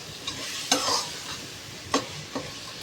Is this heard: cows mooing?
no